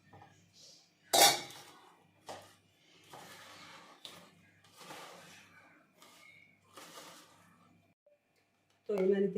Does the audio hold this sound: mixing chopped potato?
yes